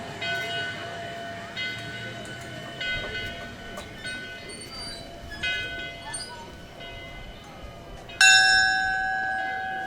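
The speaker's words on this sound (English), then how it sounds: "That's a bell that's in the depot, and it's just there for kids to ring and enjoy." A depot bell at the Virginia and Truckee Railroad steam line in Gold Hill rings out in a few clear, ringing strikes, heard over light background bustle near the station.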